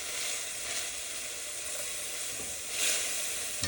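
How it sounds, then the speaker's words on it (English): A pork pan deglazed with red wine sizzles steadily while being stirred, with a continuous close hiss and a brief louder surge of steam near the end; no one speaks. "Give that a good stir."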